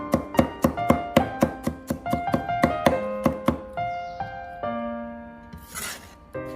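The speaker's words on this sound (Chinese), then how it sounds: "拍碎之后再改刀将大蒜切成蒜末" A knife chopping crushed garlic into mince on a cutting board, with a quick steady run of sharp knocks that slows into a few spaced taps, close and clear with no talking.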